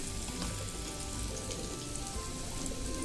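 A tadka of nihari masala, ginger and magaz sizzles in hot oil for Lahori beef nihari, a dense, steady close crackle like rain with no speech over it.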